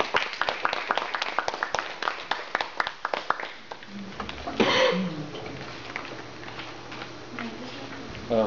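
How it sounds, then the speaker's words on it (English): A small group at a Toastmasters session claps for a speaker about to give her icebreaker speech, with sparse distinct handclaps that thin out after a few seconds into room noise and brief murmuring. "let's give her a big round of applause"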